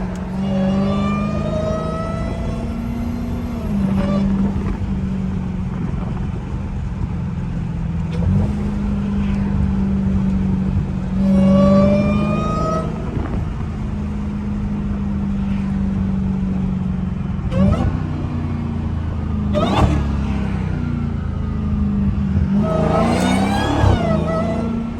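A straight-piped Dodge SRT Hellcat drones loudly while driving, with repeated throttle blips and revs rising over a steady low rumble, heard from the cabin, along with a few sharp knocks and thumps.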